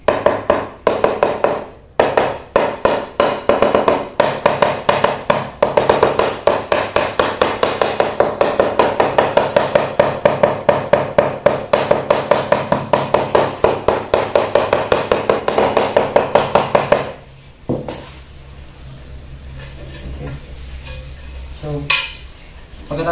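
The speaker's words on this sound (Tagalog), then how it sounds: "rubber hammer para sa tiles" Rubber mallet tapping 40 by 40 floor tiles into place, rapid regular thuds repeating for about seventeen seconds before stopping, then a quieter stretch with a few scattered knocks.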